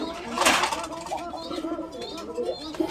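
Pigeons at a pigeon farm coo softly in low, rolling murmurs, faint and close, with a slightly brighter call near the start and a voice faintly present.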